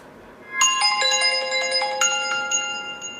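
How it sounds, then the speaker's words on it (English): Apple's new iOS 17 ringtone plays alone, a bright sequence of chiming bell-like tones that starts abruptly and rings out in layered, sustained notes over a few seconds. "That's all the ringtone was."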